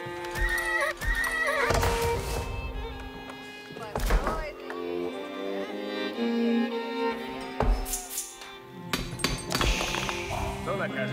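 Horses whinny and hooves clop in Age of Empires IV during a Moscow versus Lithuania match, with several loud neighs and thunks over game music and sound effects while in-game units speak in Russian.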